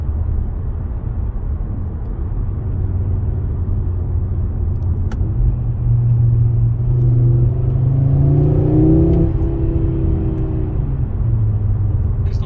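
Audi RS3 8Y accelerating hard from inside the cabin, its engine rumble climbing steadily in pitch, dipping briefly at a gear change and then pulling again, loud and continuous without talk.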